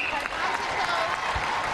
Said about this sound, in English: Yeah, deserved applause.